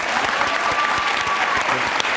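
An audience at a televised talk show claps steadily throughout, a dense, fairly loud burst of applause with no speech over it.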